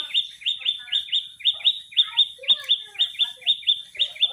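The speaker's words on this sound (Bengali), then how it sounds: "তো আমার কাছে কিন্তু পাখির ডাক শুনতে অনেক ভালো লাগে।" Small birds chirp in a steady, repeating series of bright tweets, near and clear, on a spring day outdoors beside a home kitchen.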